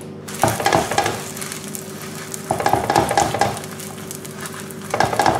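Stuffed msemen flatbread frying in a little sunflower oil in a pan over medium heat, a steady close sizzle with louder crackling bursts recurring roughly every two seconds, no voices.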